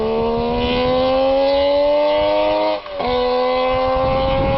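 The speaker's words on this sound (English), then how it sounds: "Some famous Suzuki two-strokes include the GT750, which sounded like this." A Suzuki GT750 two-stroke motorcycle engine revs up steadily, its pitch climbing smoothly, then briefly cuts out and picks up again, loud and close.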